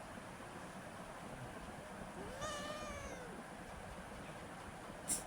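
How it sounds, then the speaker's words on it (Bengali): A cat lets out a single drawn-out meow in the middle of a quiet, softly noisy indoor space, faint and alone. "ও খালি ম্যাও।"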